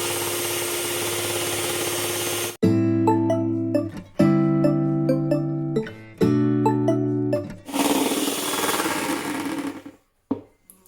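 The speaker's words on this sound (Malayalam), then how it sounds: "വിപ്പ് ചെയ്യുമ്പോൾ മീഡിയം സ്പീഡിൽ വേണം വിപ്പ് ചെയ്ത് തുടങ്ങാൻ." An electric mixer whisks pancake batter at medium speed, giving a loud, whining motor tone in several bursts broken by short pauses, after a noisy opening stretch.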